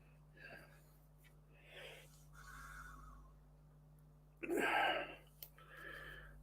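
A man sniffles in a few short, breathy bursts, with one louder, longer sniff near the end, while he builds an Emhar Bedford OLBD 5-ton dropside truck plastic model kit.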